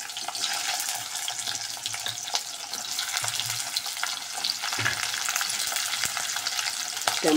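Raw tomatoes, garlic and peanuts dry-roast in a pan for a raw tomato chutney, a steady low crackle with occasional scraping stirs close by and no talk.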